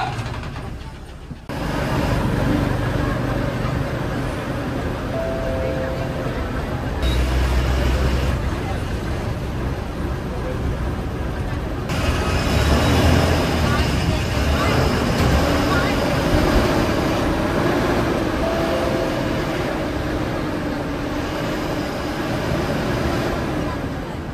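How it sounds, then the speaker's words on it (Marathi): Shirdi bus stand crowded with buses and people: steady engine rumble and traffic noise, a constant din of many voices and movement, with occasional louder passing vehicles. "बघू शकता बस स्टँडवर गर्दी जबरदस्त आहे"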